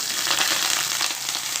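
Chopped onions and green chillies fry in hot oil with tempering seeds for a ridge gourd and moong dal curry, a loud, continuous close sizzle with light stirring and no voices.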